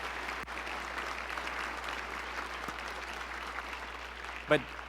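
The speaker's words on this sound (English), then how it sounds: "why don't we give him a round of applause too?" Applause for a university board chair spreads through a large hall as a fairly quiet, even patter of many hands, somewhat distant, with a brief sharp knock near the end.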